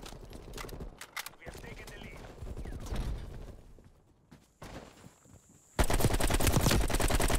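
AK-47 fire in the shooter game Black Ops Cold War comes in rapid bursts mixed with game effects, ending in a loud continuous stretch of automatic fire, with a player talking over parts of it.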